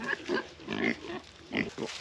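Older pigs on a farm grunt in a series of soft, short, irregular snorts, faint and fairly close, with no talking.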